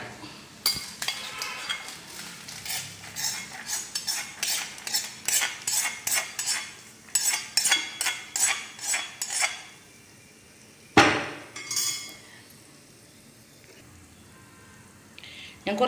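A spoon works roasted coconut into fermented unniyappam batter, making rhythmic scraping and clinking strokes against the bowl. A pause follows, then a louder clatter and a few softer stirs.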